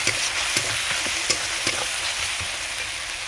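Cumin, mustard and poppy seed pastes with chili and turmeric powders fry in a pan, giving a steady close sizzle broken by a few stirring knocks and scrapes, with no talk.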